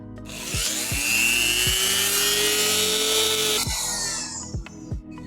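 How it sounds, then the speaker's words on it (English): Rotary tool sanding a spear pommel, a loud high-pitched whine that winds up, holds steady for several seconds and then spins down, with a few clicks and knocks underneath. "I'm gonna go ahead and use this rotary tool to sand out all of the area between here and that chalk line"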